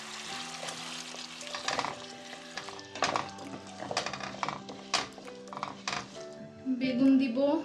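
Cut potatoes frying in a pan, a steady sizzle with clinks of a utensil stirring and scraping, while someone talks over it.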